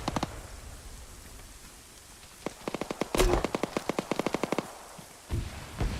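Rapid bursts of automatic gunfire in a military firefight in the video game Arma, a tight string of sharp cracks between scattered single shots, moderately loud over a faint background.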